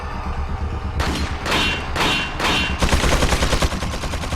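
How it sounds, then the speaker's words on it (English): Bursts of machine gun fire in the video game Resident Evil 4, loud and close: several separate volleys give way to a denser, continuous rattle toward the end. "You get fucking machine guns."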